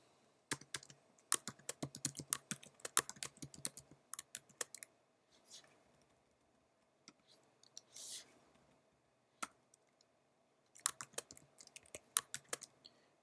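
Computer keyboard typing while HTML is entered in a code editor, in quick irregular bursts of clicks separated by pauses, fairly quiet and close with a faint steady hum behind.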